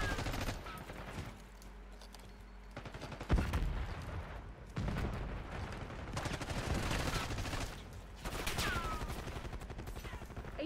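Gunfire in Call of Duty Black Ops 6, with sustained automatic bursts and heavy shots rolling across the scene, broken by short pauses, alongside intermittent radio-style voice callouts.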